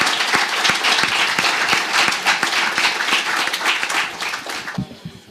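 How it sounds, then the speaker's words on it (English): An audience applauds panel speakers at a cyber risk conference, with sustained, dense clapping from a crowd that tapers off near the end. "give him a round of applause"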